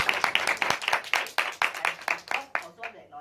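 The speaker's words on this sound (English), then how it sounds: "give Dr. Sisi a big round of applause." A small audience claps for a speaker in a rhythmic burst of distinct, fairly close hand claps with voices mixed in. The claps speed up slightly before stopping.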